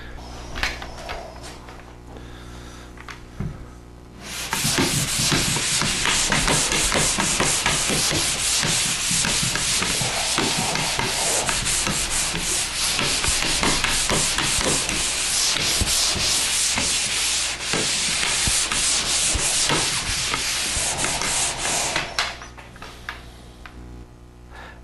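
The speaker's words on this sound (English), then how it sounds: "Now we're ready to start sanding our finished product." A drywall patch is sanded by hand with rapid, continuous rubbing strokes, close and loud for about eighteen seconds, with quiet room noise before and after.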